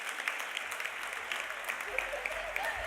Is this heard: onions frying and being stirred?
no